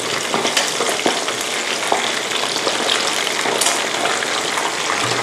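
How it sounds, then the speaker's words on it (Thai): Mackerel sizzles and crackles steadily in hot oil in a pan, with bursts of popping and spatter, close and continuous, no speech. "ตอนนี้ปลาทูที่เราทอดไว้ก็น่าจะเหลืองทั้งสองด้านแล้วนะคะ"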